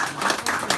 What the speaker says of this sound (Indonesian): Tepuk tangan malih kita.